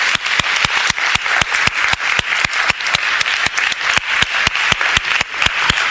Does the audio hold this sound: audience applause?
yes